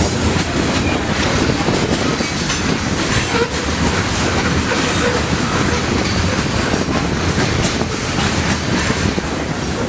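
A long freight train led by BNSF engines rolls past close by, a continuous loud rumble of wagons with rhythmic wheel clatter and occasional faint squeals throughout.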